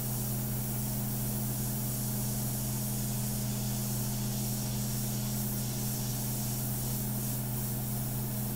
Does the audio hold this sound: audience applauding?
no